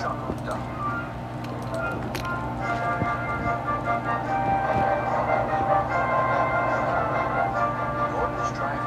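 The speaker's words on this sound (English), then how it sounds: "Gordon's train rocketed past and was gone." A steam engine's train rushes along rails in a Thomas and Friends story, a steady rumbling clatter with sustained whistle-like tones, building slightly louder toward the end, with speech mixed in.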